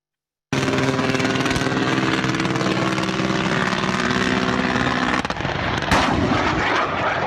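AH-6 Little Bird helicopter on a military gunnery range, firing guns and then shifting to rockets: dense, continuous rapid gunfire over the rotor drone, a sharp break near the end, then louder blasts, all close and intense.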